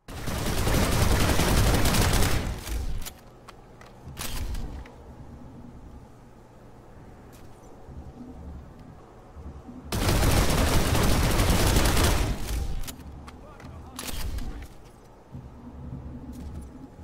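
The Artemis gun in Planetside 2 fires in two long, loud automatic bursts with rapid shots, each followed by quieter in-game ambience and a few scattered shots.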